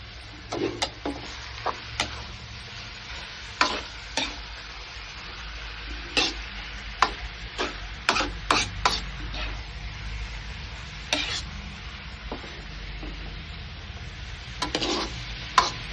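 Ground pork sizzling as it is stir-fried in a pan for lumpiang Shanghai, a steady frying hiss punctuated by frequent sharp spatula scrapes and clacks, close and fairly loud; no talk.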